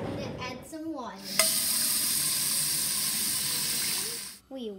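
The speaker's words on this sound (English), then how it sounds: "I'm going to add some water." Water pours into a pot of spicy instant noodles with a sudden loud sizzling hiss that holds steady for a few seconds, with a person talking briefly before and after.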